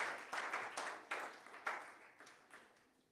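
Church congregation applauding Jesus, a faint crowd clapping in repeated swelling waves that gradually fade.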